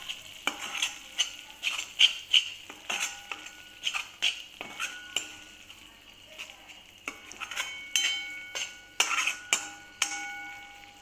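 Black chickpea masala with kasuri methi sautéed in oil: a spoon repeatedly scrapes and clinks against the pan in uneven bursts over a soft, steady sizzle, close and moderately loud.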